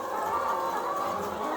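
Laying hens on a chicken farm cluck and murmur as a dense, continuous flock chorus, steady and moderately loud throughout.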